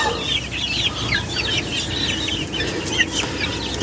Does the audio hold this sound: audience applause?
no